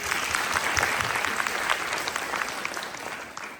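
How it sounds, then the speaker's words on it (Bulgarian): Applause from an audience for parents and relatives before a school performance, a dense steady clapping that fills the whole stretch at close range and eases slightly toward the end. "аплодисменти за вас"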